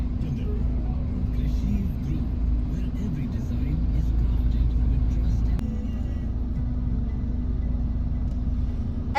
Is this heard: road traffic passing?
yes